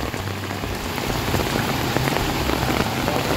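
A river pours from a cave at its source through a temple near Amboli Falls, a dense, continuous rushing wash of water filling the clip at steady loudness, no voices.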